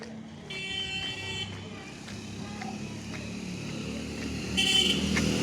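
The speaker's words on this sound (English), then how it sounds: "There is traffic." Busy city street traffic with cars and motorbikes passing nearby, a steady engine rumble broken by a few short horn toots, one louder honk near the end.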